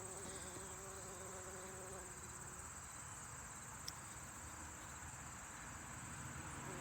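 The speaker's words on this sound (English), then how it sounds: "So the bee's doing its job to spread pollen from one flower to another flower." A bee buzzes around flowers outdoors, a steady continuous drone that holds at an even level throughout with no talking.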